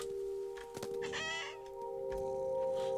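Chicken clucking in the video game What Remains of Edith Finch: a few soft clucks and a brief burst of wing flapping set against a steady tonal hum, quiet and fairly close.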